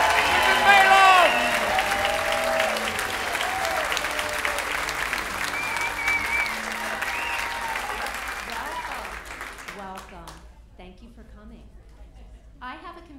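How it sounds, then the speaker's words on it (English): Audience applause for a comic at a stand-up comedy bootcamp, a loud sustained ovation with a voice speaking over it that gradually thins out into scattered claps. "I want you to make her feel welcome with a big round of applause"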